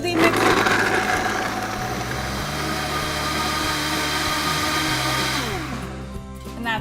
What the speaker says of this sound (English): We'll just pop the top on, put it on our smoothie mixer.